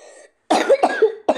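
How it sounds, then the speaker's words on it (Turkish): Coughing fit in a close, dry run of four harsh coughs in quick succession, following a faint hum of tones and a short silence, with no talking during the coughs. "Az önce öksürme krizine girdim."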